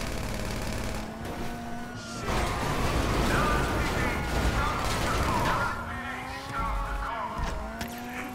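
A video game car drives with a constant engine drone, tire squeals and crashing impacts, loud and busy throughout.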